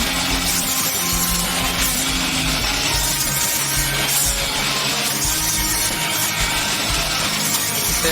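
A loud, continuous power tool whine cuts through wood, steady and close without pauses.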